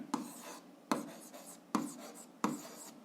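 A pen or chalk writes out an algebra solution by hand, making four distinct scratchy strokes at a steady rhythm, each trailing off into a soft scrape. The writing is close and fairly quiet.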